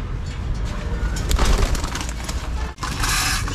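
Pigeons cooing continuously while being fed grain, with a low, dense murmur of several birds close by and a brief dip near the end, no talk.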